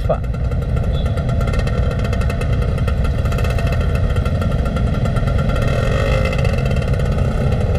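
A Suzuki Satria 120R motorcycle engine runs loud and close, a constant buzzing drone that holds steady throughout, with someone talking over it.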